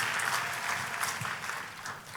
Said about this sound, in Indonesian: Kita kasih tepuk tangan yang paling meriah buat Tuhan kita.